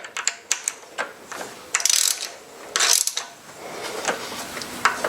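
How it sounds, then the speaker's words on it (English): A ratchet loosening the bolts on a BMW E36 VANOS unit, with quick close bursts of clicking pawl strokes in irregular runs, some longer ratcheting spells and light metallic clinks between, no talking. "So we're going to start with the 3 bolts and the spring clips that go with it. And I like to sort of loosen them progressively"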